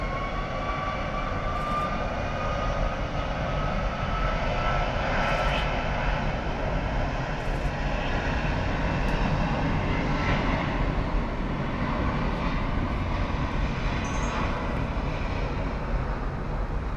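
Avianca Cargo jet engines at Miami Airport produce a steady, loud, broadband roar that holds throughout, with a few faint clicks over the top.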